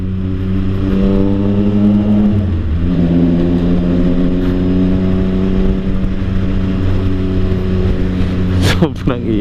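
A Triumph Sport 660 motorcycle fitted with an Orion Toni exhaust idles and revs loudly up close, a deep droning engine tone that rises and falls with throttle blips near the end, with no talk.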